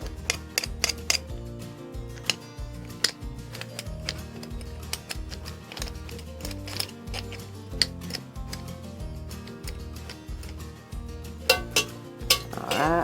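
Garlic cloves squeezed one at a time through a metal garlic press while cooking chicken cacciatore: sharp, quiet clicks and crunches at irregular intervals over steady background music.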